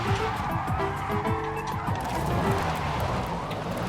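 Engine of a roughly 430-horsepower Mazda Miata drifting through 360s in a video game, with a steady revving drone and tire skids squealing throughout, loud and continuous.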